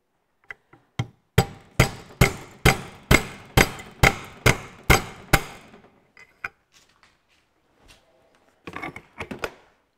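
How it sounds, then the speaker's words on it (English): An alloy punch is hammered to drive a gudgeon pin out of a Ferguson TEA20 tractor piston. About ten sharp, evenly spaced metallic knocks ring out close by, followed by a few scattered lighter taps and clinks. "I've got a bit of an alloy punch here I've made up for years. And I can come in around the back here."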